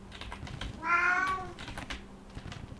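A pet cat lets out one clear, drawn-out meow close by, with soft keyboard typing and clicking tapping around it.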